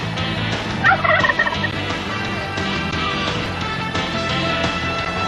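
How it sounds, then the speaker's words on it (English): Turkeys gobble in a bright burst of several calls around the one-second mark, heard over a steady broadband background with music-like tonal layers that continue throughout. "You think those turkeys know what's right around the corner?"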